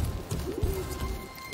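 Pigeons coo softly in the video game Submerged: Hidden Depths, a low throaty call rising briefly out of a dense, steady ambient bed with no speech.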